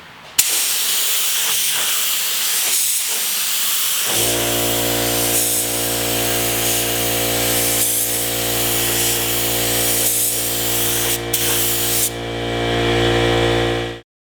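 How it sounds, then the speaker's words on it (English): An aerosol can sprays PlastiDip onto a vehicle panel. After a few seconds of quiet handling, a loud, steady, close hiss runs almost unbroken for about ten seconds, with one brief dip near the end. "So just continue spraying the dip until the entire panel has a nice wet coat."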